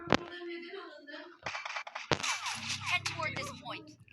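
Gunfire in a video game: one sharp shot near the start, then a dense cluster of shots and metallic clatter in the second half, with a voice talking over much of it.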